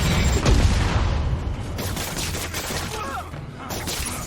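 Gunfire bursts from the Spider-Man PS4 video game, a loud, dense fusillade with booming hits and rapid shots running throughout under game noise.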